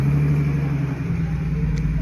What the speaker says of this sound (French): Ici la 964 turbo 3 litres 3 qu'on suivait tout à l'heure.